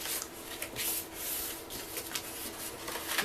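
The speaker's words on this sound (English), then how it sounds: "I'm just going to burnish with my fingers" Fingers burnishing a scored paper fold for a chocolate bar wrapper, a soft rubbing swish repeated in short strokes, close and faint with no talking.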